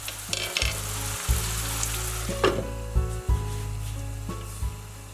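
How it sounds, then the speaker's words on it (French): Shrimp, bell peppers, carrot, garlic and chorizo simmering covered over low heat in a pan, a steady close sizzle and frying hiss with occasional soft stirring knocks and scrapes. "j'ai laissé le tout mitonner quelques minutes à couvert et à feu doux"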